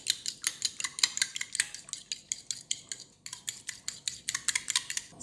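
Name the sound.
whisking eggs with seasoning in a bowl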